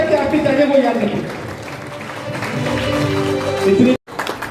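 Applause from an audience in a hall at a world peace day award ceremony, moderately loud and continuous, with a voice over the amplified sound system, cut by a brief dropout near the end.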